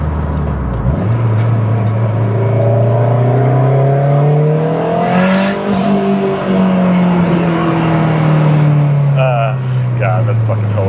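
Toyota MR2 engine revving hard while driving, its pitch climbing to a loud peak then easing back down, a strong continuous roar close up with a brief chirping sound near the end.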